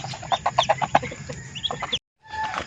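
Several chickens cluck in quick, rhythmic bursts nearby, then the sound cuts off briefly before faint clucking resumes.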